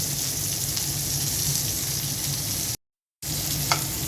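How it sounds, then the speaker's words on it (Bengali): Steady, close hiss and crackle of four kinds of vegetables frying in a hot pan, with a brief silent gap near the end before the sizzling resumes. "চার রকমের সবজি দিয়ে ভেজে নিলাম"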